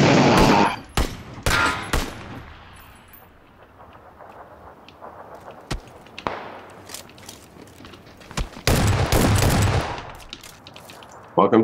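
Shotgun fire in the PUBG video game: loud, close blasts in quick clusters at the start, a quieter gap, then another dense burst of shots near the end.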